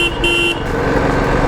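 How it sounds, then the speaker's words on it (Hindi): 2019 Royal Enfield Classic 350 Signals motorcycle horn, two short loud honks in quick succession, the second longer, over the close rumble of the idling engine. "अभी हम देखते हैं हॉर्न का साउंड."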